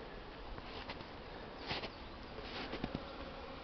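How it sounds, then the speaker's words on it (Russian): Buckfast honey bees, second-generation stock, buzz faintly on their first spring flight in February, a steady hum with a few brief louder passes near the hive. "Видно, вот пчелки вылазят."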